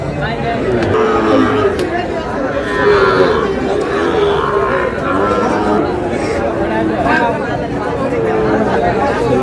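Sahiwal calves and cattle at a busy cattle market in Dinajpur moo repeatedly nearby over constant crowd chatter and people talking.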